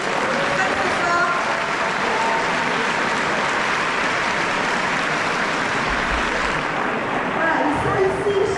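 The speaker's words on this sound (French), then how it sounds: "On peut les applaudir très très fort." A festival audience gives loud, sustained applause for visiting Greek students from Thessaloniki and Athens, a steady wash of clapping that fills the whole stretch with voices mixed in.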